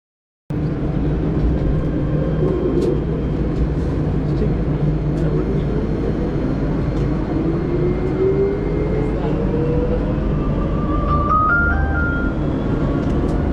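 Airport shuttle train at Charles de Gaulle Airport, heard from inside as a steady loud rumble of the moving car with a rising electric motor whine that climbs across the ride.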